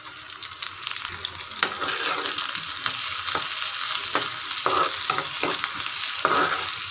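Chopped onion and green chilies fry in hot oil for chicken fried rice, giving a loud close sizzle with frequent spatula scrapes and taps as they are stirred.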